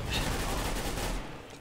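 Rapid gunfire from Counter-Strike: Global Offensive, a dense, steady burst of shots lasting over a second before easing off, loud and close with no talk over it.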